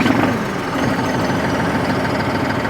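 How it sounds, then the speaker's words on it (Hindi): New Holland 5620 TX Plus CRDI tractor with a diesel engine, already running at a steady idle after starting, a continuous low rumble close by with no voices. "अब ट्रैक्टर को स्टार्ट करके इसकी आवाज़ मैं आपको सुनवाता हूँ"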